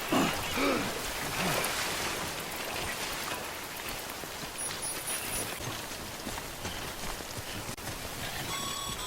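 Steady rain falls in the game Death Stranding, a dense, even hiss of drops spattering on surfaces that carries on unbroken, with faint tones coming through in places.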